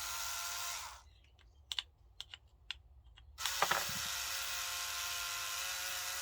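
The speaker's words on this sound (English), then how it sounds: "my screwdriver's out of battery, near enough" A battery electric screwdriver removes screws from a low-grade circuit board, its motor whirring steadily, stopping for about two seconds of faint clicks and taps, then whirring on again.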